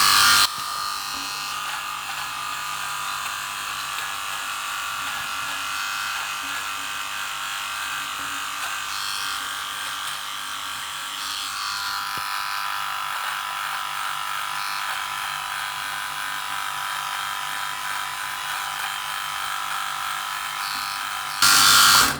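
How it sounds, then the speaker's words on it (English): A Philips 5000X shaver's attachable trimmer runs with a steady, rattly high buzz, fairly quiet and continuous, starting and stopping with louder clicks at each end. "A bit of a rattly sound this trimmer has, but that's what it's like with these Philips attachable trimmers"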